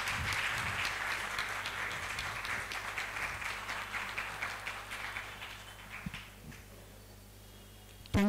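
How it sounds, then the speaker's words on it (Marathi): An audience at a football club's lifetime achievement award ceremony claps loudly and steadily, with a dense patter that gradually thins and fades toward the end. "दाभेकर सरांसाठी जरा जोरदार टाळ्या होऊ दे."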